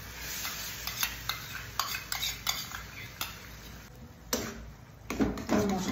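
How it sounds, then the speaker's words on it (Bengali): Boiled jackfruit seeds with spices being stirred in a pan for a jackfruit-seed bhorta, a spoon scraping and clinking against the metal in irregular near strokes over a faint sizzle, no talking. "কনস্ট্যান্ট নাড়তে থাকতে হবে।"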